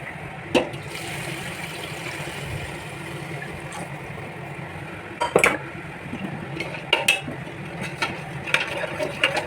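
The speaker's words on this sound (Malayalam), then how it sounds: "ഇനി നമ്മൾ പാനിയാക്കിയ ശർക്കര ഇതിനകത്തോട്ട് ഒഴിക്കണം." Syrup of melted jaggery is poured into a pot and stirred, giving a soft steady wash of liquid sound broken by scattered clinks and knocks of a spoon against the metal.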